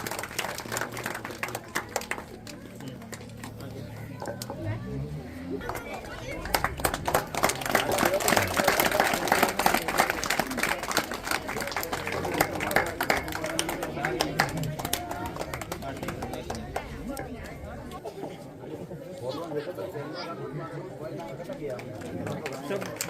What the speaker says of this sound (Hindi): ताली बजाते रहे, ताली का आनंद लेते रहे आप